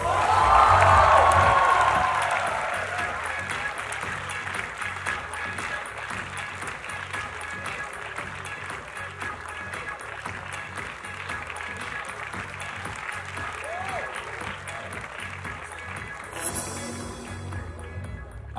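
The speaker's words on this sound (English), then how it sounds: "with a huge round of applause, please welcome on stage" Crowd at a college fest welcoming a guest on stage with a burst of loud cheering and whoops, then sustained applause rolling on through the hall, with scattered shouts.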